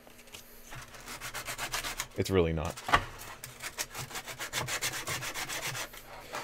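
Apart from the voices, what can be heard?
sanding by hand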